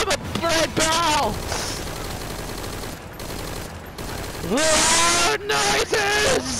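Gunfire and explosions from loud video gameplay, bursts of shots and booms in quick succession, with a voice shouting excitedly over them.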